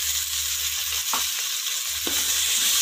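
Tomatoes sauté in a pan for vegetable biryani, giving a steady, close sizzle with two brief scraping stirs and no talk.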